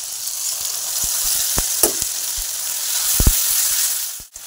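Tomatoes and spices fry in a pan with a steady close sizzle and hiss, broken by a few sharp clicks and taps of stirring.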